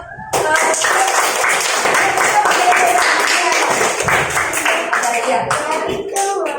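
Clapping from a group of people in a classroom lesson, a dense steady patter of many hands that holds for several seconds and thins slightly near the end, with voices mixed in.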